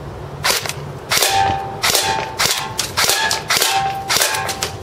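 CYMA Desert Eagle airsoft pistol firing 0.2 gram BBs on semi-automatic, a series of five sharp, loud cracks spaced about a second apart, each with a brief ringing tail.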